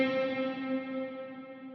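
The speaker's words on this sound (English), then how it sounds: "You hear all up those upper frequencies versus it dulls the reverb down a bit" A Line 6 Helix reverb set fully wet with a high cut applied rings out as a dulled, sustained tonal wash that slowly fades over under two seconds.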